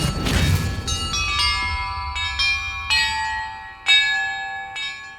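Bells ring in the Hogwarts Legacy video game: a crashing boom opens, then about six separate bell strikes ring out one after another, each with a clear metallic tone that fades before the next.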